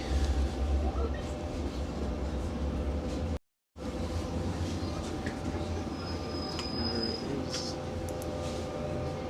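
A Sheffield tram runs along its line, heard from inside as a continuous low rumble of wheels and motor with a brief dropout midway and faint squeals.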